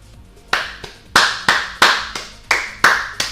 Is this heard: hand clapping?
yes